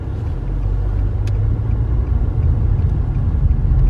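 Steady low rumble of road and engine noise inside a moving car, constant and fairly loud, with a faint tick or two above the drone and no talking.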